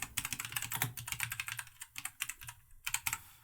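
Fingers type search terms on a computer keyboard, a quick, uneven run of close, light key clicks with short pauses between bursts, and no voices.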